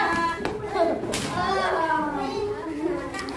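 Group of schoolchildren in a classroom clapping together on a count, a few sharp claps among lively children's voices and an adult speaking throughout.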